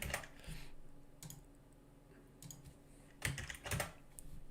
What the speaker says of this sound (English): I just hate typing these things out.